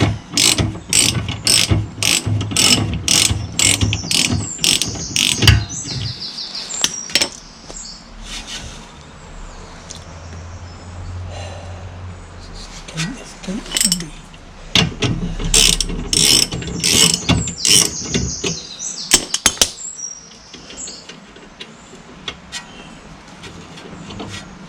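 Exhaust fasteners on a Polaris are tightened with a ratchet, giving bursts of rapid, close clicking separated by pauses, with quieter metallic handling noises in between.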